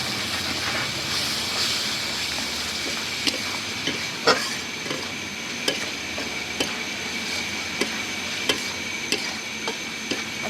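Pond crab sautéed in a pan with a splash of hot water, a steady close sizzle running throughout, broken by regular sharp ticks and scrapes of stirring, no voices.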